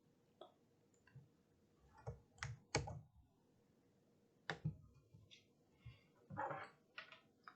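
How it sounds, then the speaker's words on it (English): A computer keyboard clacks as a command is typed into a Raspberry Pi terminal: irregular bursts of close, quiet key taps with short pauses between them, in an otherwise silent room. "we're just going to type in python blinkgpi.py"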